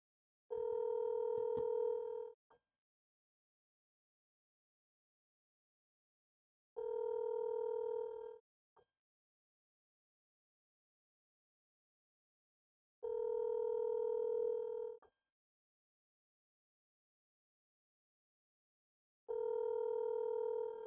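A telephone line tone sounds while a call is placed: four steady, loud beeping tones, each about two seconds long, separated by roughly four seconds of silence, with no voices.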